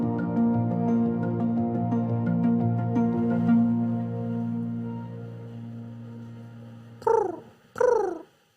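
A person imitates bird calls with the voice: a steady humming drone, then two loud, swooping whistle-like calls close together, near and alone.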